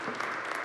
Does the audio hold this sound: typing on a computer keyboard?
no